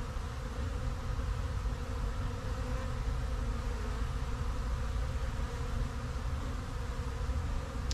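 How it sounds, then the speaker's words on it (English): Honeybees buzzing around a hive on a cold winter day near 50 degrees, a dense, steady swarm drone holding unbroken throughout, close and continuous with no voices. "so many bees out and about when temperature's barely 50, if even"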